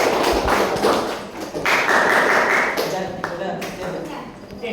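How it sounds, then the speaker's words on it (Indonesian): A school class of ninth graders claps for a classmate, a dense patter of applause from many hands, mixed with chatter and voices across the room. "tepuk tangan untuk Raven dulu"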